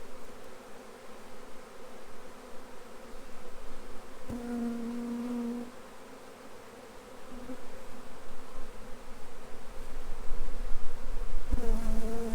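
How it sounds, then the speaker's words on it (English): Honey bees buzz continuously during a spring backyard hive inspection, a dense close drone with a few louder individual bees passing right by and briefly rising in pitch. "I've got a few bees stuck in this microphone."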